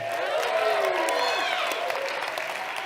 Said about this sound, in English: We can clap for that, right?